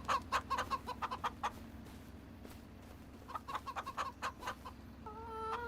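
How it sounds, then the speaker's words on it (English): Rooster and hens in Farming Simulator 25 cluck in quick repeated bursts, a busy chatter of short calls over a steady background bed, pausing briefly midway before resuming, with a sustained tonal call at the very end. "Yep, and the hens are even starting to get cozy with it."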